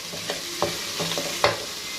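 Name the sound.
water added to sizzling masala for white chana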